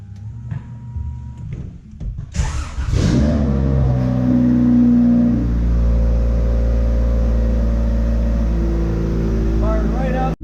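Honda CRX Si with a newly installed starter cranks briefly and fires up, settling into a loud, steady idle close by, with a little handling noise before the start.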